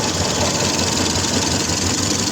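A Mazda 626 engine idles steadily and loud up close, a continuous rough running hum with a faint knocking pulse, no voices over it.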